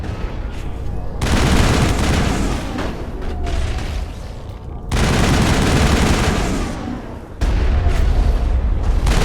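Heavy blasts from geth shock troopers in the Mass Effect video game, loud roaring bursts of booming gunfire in long dense volleys separated by brief lulls.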